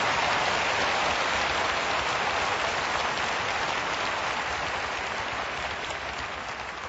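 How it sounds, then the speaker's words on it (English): Church congregation clapping in praise during a Sunday service, a dense, continuous wash of applause that holds steady and fades slightly toward the end, with no talk over it. "Would you give the Lord a big hand clap of praise?"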